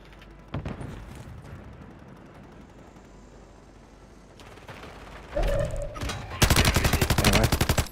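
Sniper fire in a battle royale shooter: a distant crack early on, then a louder shot with a ringing tail, followed by a rapid burst of loud mechanical gunfire at the end over steady game ambience.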